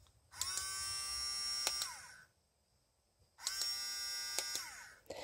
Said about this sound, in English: this allows you to turn the pump off and on